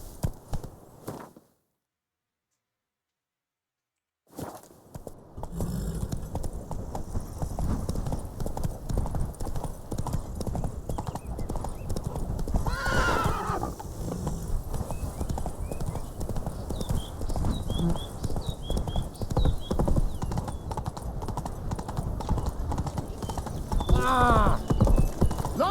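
Roach, the horse in The Witcher 3: Wild Hunt's Blood and Wine, trots with a steady, close clip-clop of hooves after a brief silent gap, whinnying about midway and again near the end.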